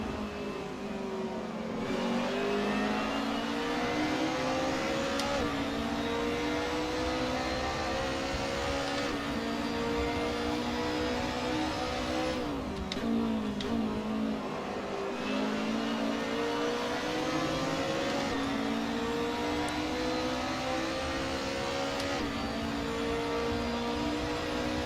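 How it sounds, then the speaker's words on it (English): A touring car in Assetto Corsa at Bathurst, engine screaming at high revs and bouncing against the rev limiter in a slipstream, a loud, continuous racing-engine drone with periodic pitch dips and stutters. "Having to lift out the throttle just because we don't have the gearing in the slipstream, just hitting the rev limiter."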